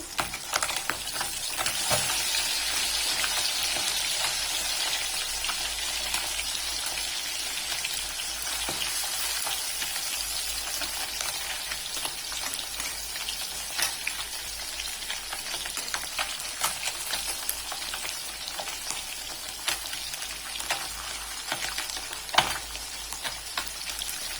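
Puti fish sizzling steadily in hot oil in a pan, a continuous bright crackle with scattered sharper pops over about twenty-four seconds, no voices.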